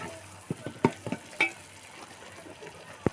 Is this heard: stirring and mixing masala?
yes